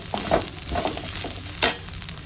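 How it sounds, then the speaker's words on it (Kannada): Grated coconut dry-roasting in a pan without oil, a soft continuous sizzle broken by spatula scrapes and one sharper scrape near the end, close and alone with no voices. "ಇದು ಗೋಲ್ಡನ್ ಕಲರ್ಗೆ ತಿರುಗುವವರೆಗೆ ಹುರ್ಕೋಬೇಕಾಗತ್ತೆ ಕಾಯಿಗೆ ಎಣ್ಣೆ ಹಾಕ್ಕೊಂಡೇನು ಹುರ್ಕೊಳ್ಳೋದು ಬೇಕಾಗಲ್ಲ"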